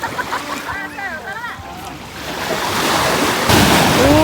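Strong ocean waves rush and build into a loud, steady surge, with voices chatting in Filipino over the start before the water noise swells.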